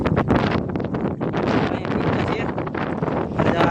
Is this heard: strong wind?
yes